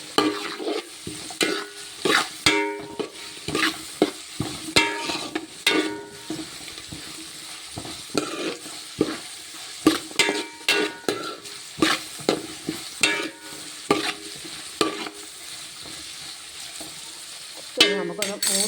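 Onions fry in a pan while being stirred, with a constant sizzle under repeated rhythmic scraping and clacking strokes of a spoon against the pan, close and clear.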